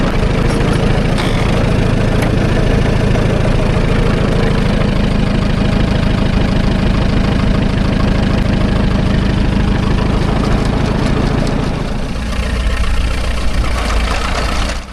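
A standard Fordson tractor engine runs steadily while driving a PTO shaft, a loud, continuous low chugging throb that stays constant until it eases off briefly near the end.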